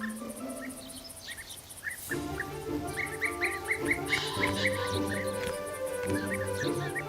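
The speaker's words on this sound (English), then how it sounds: "Beeeater that had died out in Germany began to frequent this area again" European bee-eaters call outdoors, with repeated short rolling chirps scattered over a dense background of insect buzzing and other bird sounds, moderately close and continuous.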